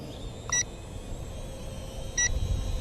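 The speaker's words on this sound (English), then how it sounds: "something's beeping here for some reason" Two short electronic beeps from a DJI Mavic drone setup outdoors, spaced well apart over a faint windy background.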